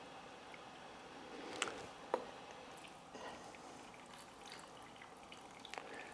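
Water poured into a jar of pickles, a faint trickling wash with a few soft drips and splashes breaking through, quiet and close, with no talk.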